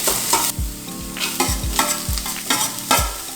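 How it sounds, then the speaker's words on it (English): Vegetables sautéing in hot cooking oil with cumin and mustard, stirred in a pan: steady close sizzling and frying with repeated low thumps and scrapes from stirring in an uneven rhythm. "briefly saute these vegetables in some cooking oil along with some cumin and mustard"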